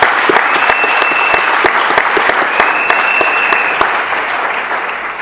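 A crowd at a political party rally commemorating the liberation bursts into loud, sustained applause, dense clapping that holds steady for several seconds before easing slightly at the end.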